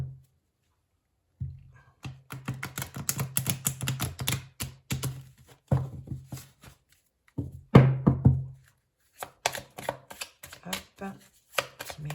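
Oracle cards being shuffled by hand, a rapid run of crisp flicking taps and soft slaps in uneven bursts after a short silence, close and fairly loud, with no talk over it.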